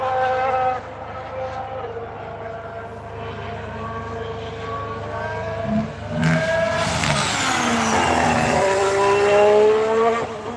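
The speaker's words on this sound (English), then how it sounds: "Let's hear the Ferrari again as it comes through." Ferrari Formula 1 car passing during a test session, engine note rising and falling through several gear changes, a sharp roaring pass growing louder near the end.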